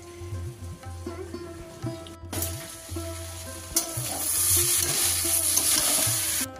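Kudli fries in a pan, giving a soft, steady sizzle that swells into a louder hiss partway through, with occasional stirring knocks and a low background hum.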